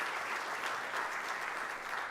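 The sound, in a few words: church congregation applauding visiting elders and pastor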